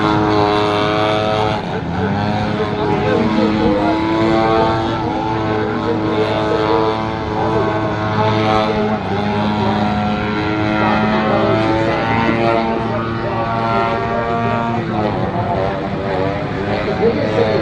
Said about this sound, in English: showing us the aggressive nature of that aircraft